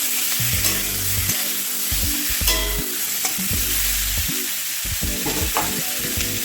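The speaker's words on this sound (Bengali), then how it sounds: "এখানে আমি আগে থেকেই সেদ্ধ করে রাখা আলুগুলো একটু ভেজে নেব" Pre-boiled potatoes fry in a wok for a soybean curry, giving a loud, dense, continuous sizzle with scattered pops and stirring scrapes close by.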